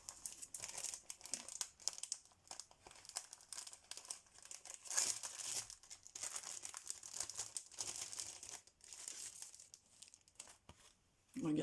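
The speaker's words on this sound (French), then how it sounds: "je vais quand même la sortir de son papier" Paper crinkles and tears steadily as an art book collector's edition is unwrapped from its wrapping, close and continuous, with a voice talking over it now and then.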